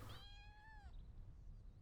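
A cat gives a single short, clear meow near the start, fairly faint against a quiet indoor background hum, with no talk.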